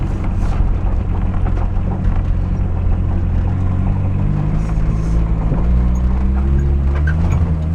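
A VW 1.6-litre diesel caravan engine, left sitting for seven years, runs with a loud, steady low rumble and rough clatter close by, continuous throughout with no talk.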